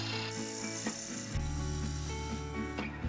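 A gouge takes a finishing cut on a wooden bowl spinning on a lathe, giving a continuous rasping, whirring scrape with a steady motor hum beneath, close and loud for a few seconds.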